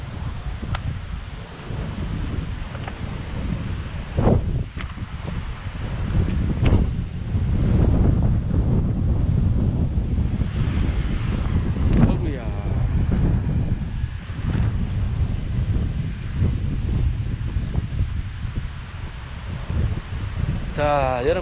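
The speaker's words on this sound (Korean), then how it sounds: "바람이 좀 불기는 좀 세게 좀 부는 편입니다." Strong gusty wind buffets the microphone outdoors among apartment blocks and trees, with continuous roaring rumble and rustling while someone talks throughout.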